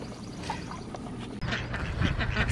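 Ducks quack on a homestead, a busy cluster of overlapping quacks from several birds, fairly close and continuous.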